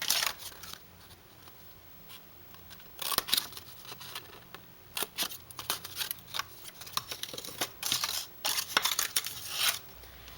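Scissors cut corner squares out of a cardboard cupcake box, heard as quiet intermittent snips and crunchy clips in short bursts with brief pauses between, no speech.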